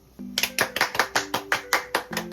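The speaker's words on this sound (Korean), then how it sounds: "박수!" About ten brisk hand claps in a quick, steady rhythm, close and clear in a quiet room with no talking.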